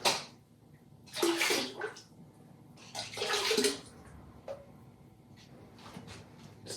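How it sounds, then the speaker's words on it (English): Folk art white glaze splashes and pours onto a ceramic piece in two wet, gushing bursts, each followed by softer dribbles and drips, close and fairly loud without talking. "just randomly just splashing some glaze on your piece"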